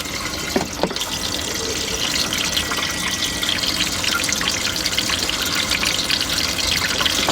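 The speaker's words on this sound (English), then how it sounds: "See if this is toilet's working." A camper van toilet in a VW Autosleeper Clubman GL is flushed, a steady rushing gush of water that runs unbroken for several seconds after a couple of brief clicks at the start.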